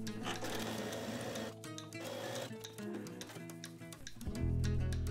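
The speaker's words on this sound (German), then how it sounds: "nähen dann hier einmal gerade rüber, im Abstand von 2 cm zur umgefalteten Kante oben" Sewing machine stitching a straight seam across a fabric pocket, 2 cm from the folded top edge, for a skort; steady rapid mechanical whirr running continuously, close and loud, with a short pause midway and a louder burst near the end.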